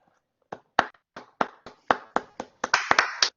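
A single person claps by hand close to the microphone during an online Spanish-language math history talk, starting after a brief silence with spaced, sharp claps that quicken and grow denser toward the end.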